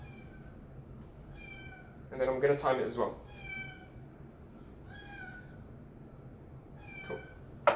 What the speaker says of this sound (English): Sorry, my cat just wants some food